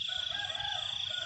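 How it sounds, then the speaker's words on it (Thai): A rooster crows in a single sustained, strained call, somewhat distant and fairly faint. "เสียงไก่ขัน"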